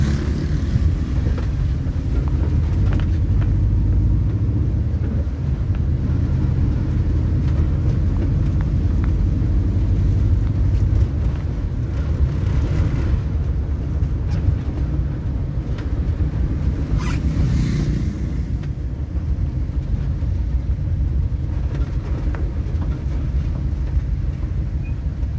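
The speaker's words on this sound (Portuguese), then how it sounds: "Nessa Kombi aqui eu ando o tempo todo com esse carro." Volkswagen Kombi van driving on the road, a steady, loud low engine and road rumble that fills the whole stretch without pause, with no voices over it.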